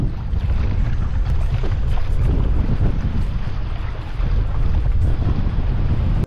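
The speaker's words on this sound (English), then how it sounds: "Wind here right now is something else" Strong wind on a beach roars and buffets steadily against the microphone, a constant loud rush with no voices.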